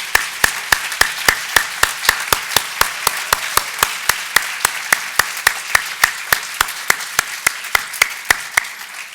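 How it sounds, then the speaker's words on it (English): A single person clapping steadily and evenly, about three claps a second, close and clear for the whole stretch, with no crowd heard, though the call is for the assembled early childhood education session audience to applaud. "if you would all join me and give them a round of applause"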